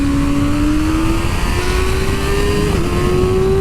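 A 2024 Kawasaki Ninja ZX-6R motorcycle engine on a race track holds a loud, steady high-revving drone that climbs slowly in pitch, briefly dips near the end, then carries on, close and continuous with no talk.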